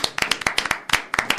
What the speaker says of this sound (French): Et on peut l'applaudir bien fort,